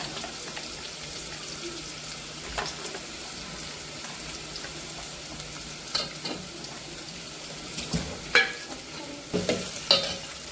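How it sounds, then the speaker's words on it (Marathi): Onion with ginger garlic paste sautéing in a pan for idli sambar, a constant soft sizzle with intermittent stirring scrapes and spoon clinks growing more frequent toward the end, close and fairly quiet, no talking. "कांदा चांगला परतून घ्यायचा आहे लाल होईपर्यंत."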